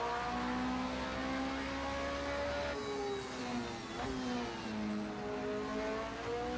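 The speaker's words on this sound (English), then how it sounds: "this car accelerates and brakes" A car engine revving up through rising and falling tones as it accelerates and then eases off under braking, heard from inside at moderate level with a steady whir beneath.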